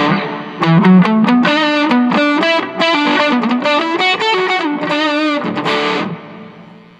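Distorted electric guitar through a Kokko distortion pedal into a Caline Pure Sky overdrive plays a melodic line of sustained, gritty notes, loud and close, then fades out near the end.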